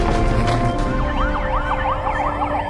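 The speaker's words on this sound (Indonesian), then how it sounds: "Sekarang matikan lampu dan sirine segera." Police car sirens wailing, with rising and falling tones overlapping over a low rumble of vehicles, loud and close, with no talk.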